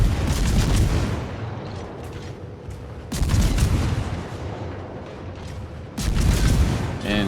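Heavy naval guns boom in three big salvos with rumbling echoes in the video game World of Warships, each blast followed by a long fading roar, loud and close.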